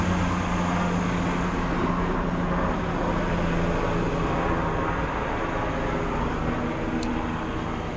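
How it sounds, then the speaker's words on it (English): A helicopter passing overhead in a town street, a continuous dense low rumble with broadband roar holding steady and loud throughout, no talk. "It's a helicopter"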